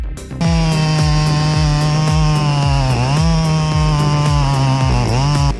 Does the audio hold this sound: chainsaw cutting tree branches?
yes